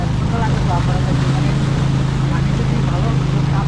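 A motorboat carries passengers on a trip to Taopara through remote hill country, its engine holding a steady, unbroken drone throughout with wind and water noise around it.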